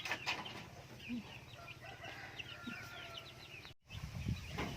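Domestic chickens clucking while being fed in a farmyard, repeated short clucks and chirpy calls at close range over low background noise, with a brief dropout near the end.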